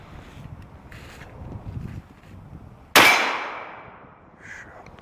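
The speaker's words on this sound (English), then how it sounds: "let's try a 240 grain bullet out of the 44 Magnum and see what it does" A single loud, sharp gunshot from a Ruger semi-automatic rifle firing a 240 grain 44 Magnum round, cracking close by and ringing off with a long decaying tail over faint outdoor background noise.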